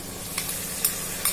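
Tomatoes go into ridge gourd frying in a pan, giving a soft steady sizzle with a few faint stirring scrapes, no voices.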